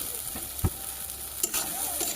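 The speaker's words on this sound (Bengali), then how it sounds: "লঙ্কাটা বসিয়ে দিয়েছি, ভালো করে মশলাটা কষিয়ে নেব।" Chillies and spices fry quietly in a pan, a faint steady sizzle broken by a few soft stirring knocks.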